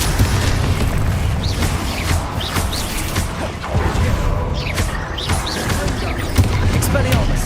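Confringo fire-blast spell from Hogwarts Legacy bursting in repeated booming impacts amid a busy in-game duel, mixed with other spell hits and a voice speaking over the clamor.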